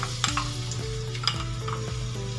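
Cooking oil sizzles in a pan at a steady, moderate level, with a low hum and occasional stirring clinks and scrapes on top, no voices.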